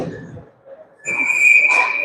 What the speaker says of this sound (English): that's going to be whistled down for the high stick